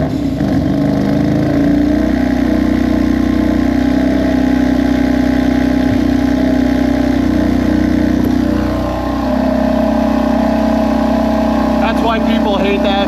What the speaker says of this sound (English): the factory cold start is one of the worst sounding things I've ever heard